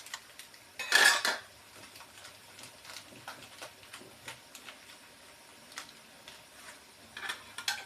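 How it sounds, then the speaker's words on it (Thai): American fried rice being stir-fried in a pan, a loud metallic clang of a utensil against the pan at the start followed by lighter repeated scraping and tapping, close and without talk. "ผัดให้เข้ากันนะคะคลุกเคล้าให้เข้ากัน"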